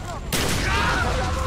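A loud shotgun blast from Call of Duty Black Ops in a campaign mission, one sharp report following a quiet moment, then sustained rumbling battle noise.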